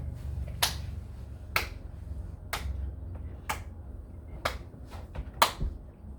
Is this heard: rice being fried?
no